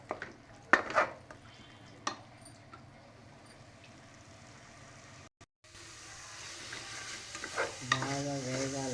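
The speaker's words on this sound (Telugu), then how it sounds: "పేస్ట్ వేసి బాగా వేయించాలండి. పచ్చివాసన పోయేంత వరకు బాగా వేయించాలి." Paste frying and being stirred in a pan with fresh coriander while cooking, a steady sizzle with repeated scraping stirs, a short break midway and a louder, fuller fry toward the end.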